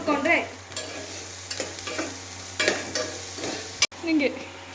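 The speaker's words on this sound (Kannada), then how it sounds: "ಸೊ ಇಲ್ಲಿ ಎಣ್ಣೆ ತುಪ್ಪ ಕಾದ ಮೇಲೆ ನಾವು ಈರುಳ್ಳಿಯನ್ನು ಹಾಕಬೇಕಾಯ್ತಾ" Onions fry in hot ghee and oil with a loud, steady sizzle, broken by repeated bursts of stirring and scraping in the pan.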